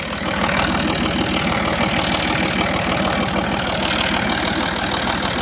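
A 2010-model tractor engine idles steadily and loudly close by, a continuous low, rumbling chug with an even pulsing beat and no voices over it.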